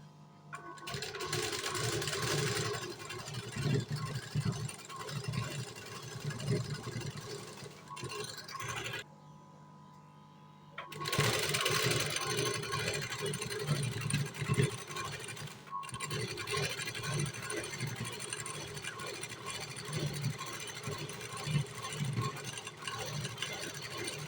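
Sewing machine running in steady bursts as lace is stitched onto a blouse, a dense close whirring rattle that stops for about two seconds partway and then resumes, no talk.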